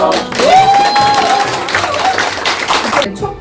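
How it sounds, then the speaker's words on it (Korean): Audience clapping and cheering at a book talk for a Korean essay collection, a loud burst of applause with whoops, mixed with voices throughout. "모두 박수로 축하드립니다"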